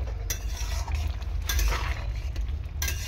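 Soybean chunks are stirred around a cooking pot, with soft scraping and clinking of a utensil against the metal in steady bursts over a low background hum.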